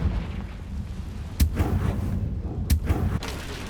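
Fire spell explosions in the Hogwarts Legacy video game, two sharp bursts followed by a booming rumble, set against a steady low in-game background drone.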